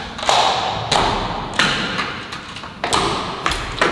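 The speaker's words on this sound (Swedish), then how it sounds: "Svårt att öppna dörren ibland." A stiff household door is forced open, giving a series of sharp, close thuds and taps at uneven intervals, fairly loud, with little else around them.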